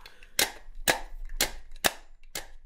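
A 'Project D' sim racing H-shifter with hall sensors is shifted by hand right beside the microphone, giving five sharp, loud mechanical clacks about half a second apart, with no talking.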